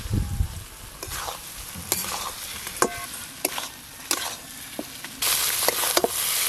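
Fried eggs being turned through hot, oily masala in a pan, a bright sizzle with a series of sharp spatula scrapes and knocks at an irregular pace, close by and with no voices.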